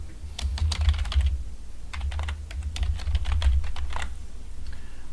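Rapid, uneven keystrokes clatter on a computer keyboard as a passcode is typed, close and continuous over a low background hum.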